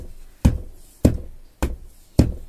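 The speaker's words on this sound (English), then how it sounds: "if you hear like a banging on your door" Four heavy bangs strike a door at a slow, even pace, each one sharp and loud and separated by quiet, with no voices around them.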